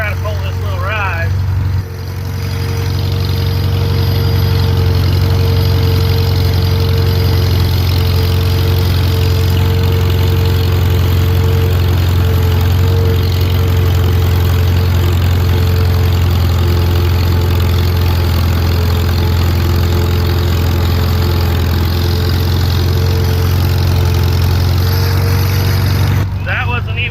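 A vintage Farmall M tractor engine runs steadily under load while pulling a small load in third gear, a loud, constant low drone with no speech over it.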